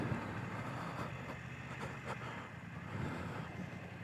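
Steady wind roars across the microphone on a 2024 BMW F900XR motorcycle at speed: a continuous broadband rush, loud and unbroken, with no voices.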